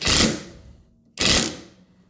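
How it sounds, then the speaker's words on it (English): Impact gun tightening a nut to compress suspension bushings on a Land Rover Defender during a lift, two loud close bursts of hammering whirr with a short pause between. "I'll just use my impact gun to compress the bushings a little"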